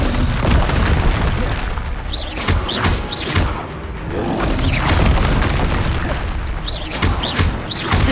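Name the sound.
Descendo spell slam in the video game Hogwarts Legacy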